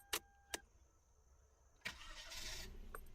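A car engine turns over and catches after two sharp clicks, then settles into a low idle, heard from inside the car and fairly faint.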